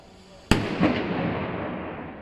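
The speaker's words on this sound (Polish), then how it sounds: "A dzisiaj pierwszy raz strzelają właśnie te fajerwerki, bo fajerwerki były dopiero dzisiaj sprzedawane." Fireworks are set off in Germany in the days before New Year's Eve. One sharp, loud bang cracks out, a second smaller pop follows just after, and both echo away slowly.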